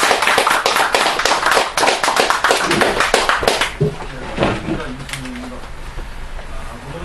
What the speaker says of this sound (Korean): 우리 준비를 많이 해준 임 박사님을 위해서 큰 박수 한번 하고 시작하겠습니다